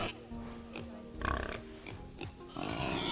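Pigs grunting in the zoo-building game Planet Zoo, a farm-animal habitat, with several short grunts spread across a few seconds over quiet game background sound, and louder bursts near the middle and end.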